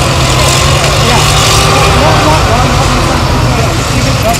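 A military vehicle's engine roars loud and steady at close range throughout, a constant heavy rumble at a military vehicle show parade, with voices faintly under the noise.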